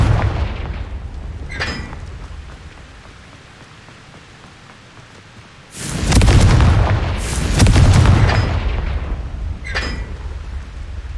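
A Confringo fire spell explodes in Hogwarts Legacy with a loud, rumbling double burst of blasts, followed by a crackling tail over a low ambient background with a few faint sharp clicks.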